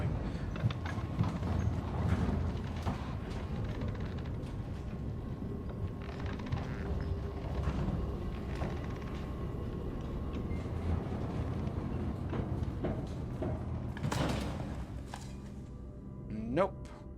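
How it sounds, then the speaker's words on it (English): An elevator in the video game Blue Prince descends with a quiet, steady mechanical rumble and occasional creaks and clunks, while someone talks over it. "That'll let us use this elevator, which will take its sweet time getting down here."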